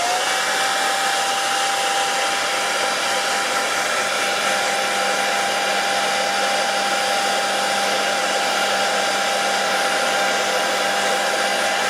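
A Conair hair dryer on high heat, low blow, drying freshly washed parts of a Singer 201K sewing machine: a steady, loud, close whooshing whine with a constant pitch, running alone for the whole stretch without pause.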